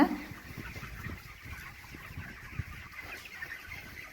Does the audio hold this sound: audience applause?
no